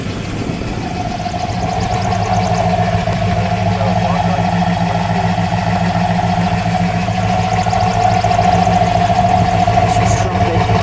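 A blue 1966 Ford Mustang GT convertible with a 289 K-code V8 idles steadily, a loud, even, continuous rumble lasting throughout with no revving.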